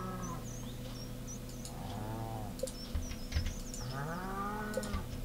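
Cows moo in the farm game Stardew Valley: two drawn-out lowing calls a couple of seconds apart over a steady background drone, with faint bird chirps.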